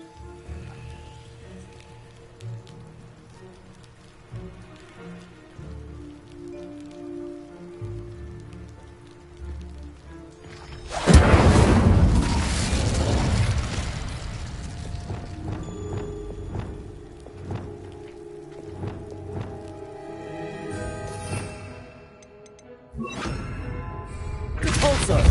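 An Incendio fire spell in Hogwarts Legacy on PS5 bursts onto a pile of debris with a loud crackling whoosh about halfway in, after quiet game ambience, and a second fiery burst follows at the end.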